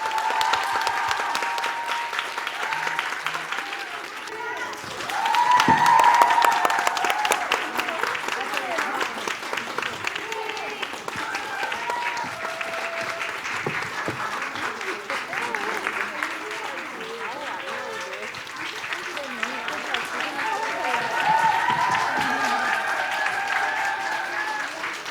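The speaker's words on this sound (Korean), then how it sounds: "우리 여성의당 대표에게 격려의 박수를 부탁드립니다" Sustained applause fills a hall at a women's party founding convention held on International Women's Day, a dense, steady crowd clapping that swells early, holds for about twenty-five seconds and rises again near the end.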